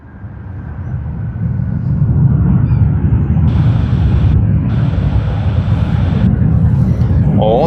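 An All Nippon Airways airplane at Sydney Airport roars up from quiet to a loud, sustained rumble, with wind buffeting the microphone and voices joining near the end.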